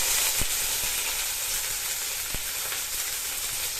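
Fennel seeds and curry leaves sizzle in hot oil for a crab curry: a loud, continuous, close frying hiss with a couple of sharp knocks of a utensil against the pan.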